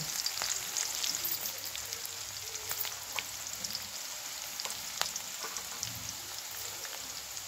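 Dried red chillies frying in hot oil, for a radish-leaf greens dish, give a steady, moderately loud crackling sizzle throughout, with scattered sharper pops and spits and no voices.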